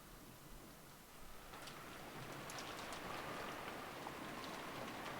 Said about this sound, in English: Then, as the sound of wind and rain slowly filled the room once again, Erika slowly opened her eyes